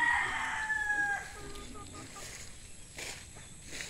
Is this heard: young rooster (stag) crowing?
yes